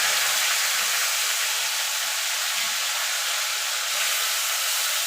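Whole cumin seeds sizzle in hot oil for tempering, a steady, loud, bright hiss and crackle close by, constant throughout with no voice.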